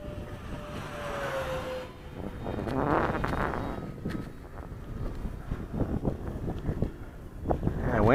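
Outdoor wind buffets the microphone at an RC model airplane flying field, rumbling in uneven low gusts that swell and fade with no talking.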